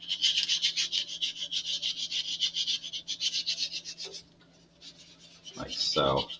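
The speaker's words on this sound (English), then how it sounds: "I need to make sure that I'm at least sanding over it" Wood filler on the rounded edge of an Estes Mini Mean Machine model rocket is hand-sanded in steady rhythmic back-and-forth strokes, loud and close, pausing briefly before a short stretch of talk.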